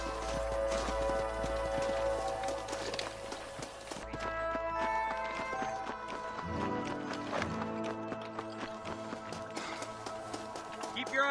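Horse hooves clip-clopping in the Western video game Red Dead Redemption, rhythmic hoofbeats moving along a canyon trail under a music score, with a short whinny and a louder stretch of trotting midway.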